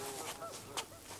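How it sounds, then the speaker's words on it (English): Several geese honk in a short burst of overlapping nasal calls, with one louder call standing out near the end over a faint hissing background. "This is 3 geese I trapped yesterday."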